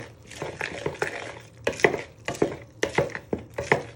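A knife scrapes and knocks around a bowl while mixing bread flour, water, yeast and salt into a dough, making irregular close clatters and scrapes in bursts with short pauses.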